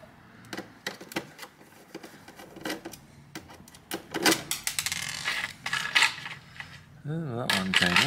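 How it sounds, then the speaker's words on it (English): Screws being removed from an HP 24 all-in-one computer, heard as close, irregular metallic clicks and small tool taps, some louder rattles toward the middle and end, with a voice talking near the close. "I'm going to assume that these various screws here all need to come out."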